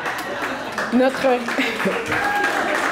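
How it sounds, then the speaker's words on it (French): An audience applauds an award recipient at a prize ceremony, the clapping running steadily beneath a speaker's voice and fairly soft overall. "Je vous invite donc à applaudir chaleureusement"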